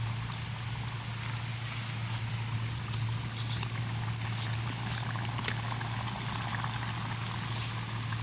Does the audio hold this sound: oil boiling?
yes